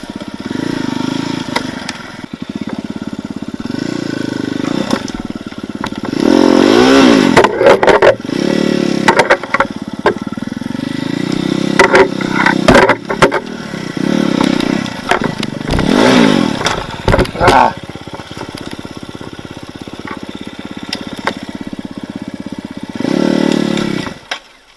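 Motorcycle engine revving hard on a forest enduro trail in the light class of a 2021 forest race, loud and close, surging and dropping in repeated bursts with clattering over roughly twenty-five seconds.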